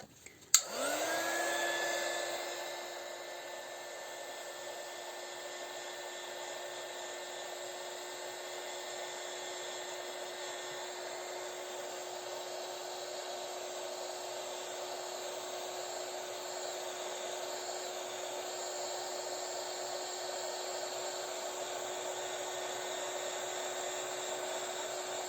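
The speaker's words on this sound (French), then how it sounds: "Donc c'est avec cette petite machine. Je vais venir chauffer ma poudre." Embossing heat tool warming embossing powder, switched on with a click and then a steady close whirring fan hum that runs unbroken to the end, with no talking.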